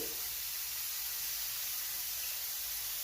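Minced meat fries in a pan of table oil and olive oil, giving a steady, soft, even hiss of sizzling that runs without a break and without talk.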